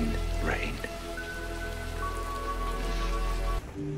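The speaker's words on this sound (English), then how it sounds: "Rain is everywhere." Rain falls steadily on surfaces in a constant dense patter, with faint tonal background sounds running underneath.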